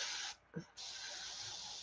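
An airbrush hisses as it sprays green paint onto a fishing lure being painted as a black crappie, a close, steady spray that cuts out briefly and then resumes.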